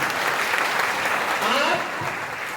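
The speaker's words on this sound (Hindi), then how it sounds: "अपने शिक्षकों के लिए एक बार जोरदार तालियां बजाइए" A large crowd of students at a Guru Purnima college festival claps loudly for their teachers, a dense sustained burst of applause with voices faintly mixed in.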